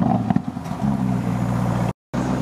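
Lamborghini Urus SUV engine roars nearby, a loud, rumbling growl that stays steady for about two seconds before cutting out abruptly and then resuming.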